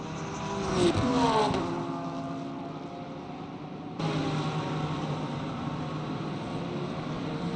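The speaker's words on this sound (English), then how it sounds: "Oh, it's the hypercars." Hypercars in the Le Mans Ultimate racing game at Interlagos, engines droning loudly as they pass, with a rising-then-falling pitch sweep early on and a sharp jump to a new engine note midway.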